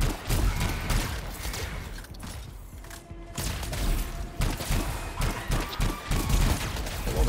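Gunfire from a weapon in the video game Anthem, a string of punchy irregular shots and mechanical clatter rolling over a busy combat background, fairly loud and without speech.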